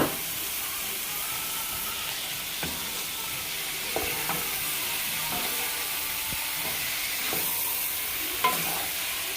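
Poblano pepper strips for rajas con crema sizzle steadily in a hot pan as a spoon stirs them, with a continuous loud hiss broken by occasional scraping clacks of the utensil.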